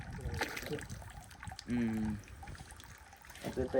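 Water runs continuously through Vattavada village, a steady wash of flow beneath voices talking nearby.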